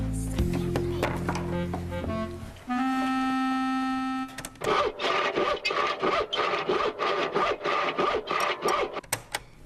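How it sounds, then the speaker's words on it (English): Hand saw cutting through wood, heard as a steady run of rhythmic rasping strokes in the second half, preceded by sustained droning tones, close and fairly loud with no speech. "Right, that's my grandfather sawing wood."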